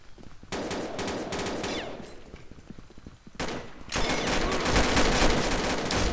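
Automatic gunfire from Combat Arms, an online first-person shooter: loud rapid bursts of machine gun fire, a short pause with scattered shots, then sustained heavy firing mixed with other game sounds to the end.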